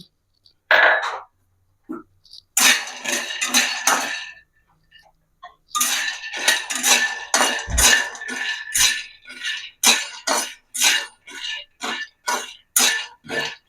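Peanuts roasting slowly in a pan over low heat, with repeated clinks and scrapes of a spoon against the metal in uneven bursts, close and fairly loud, separated by brief quiet gaps.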